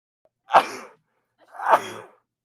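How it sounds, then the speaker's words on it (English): Two sneezes, each a sharp burst with a short trailing exhale, about a second apart, close and clear with no talking. "I feel like I'm gonna sneeze."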